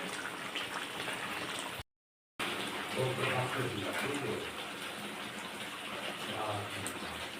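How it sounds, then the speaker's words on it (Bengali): Meat curry bubbles as it cooks in a pot, a faint, continuous gurgling simmer broken by a brief moment of total silence. "এরকম মাংস টকবক টকবক করে যে আওয়াজ হয়, এটা আমার খুব ভালো লাগে"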